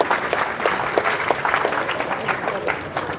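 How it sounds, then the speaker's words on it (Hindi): A crowd at a protest gathering claps loudly and steadily for about three seconds, with dense overlapping hand claps. "जोरदार तालियां बजाइए।"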